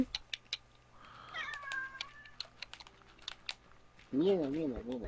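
A pet cat meows nearby with a short, wavering cry near the end, following quiet clicking and a voice talking softly in the background.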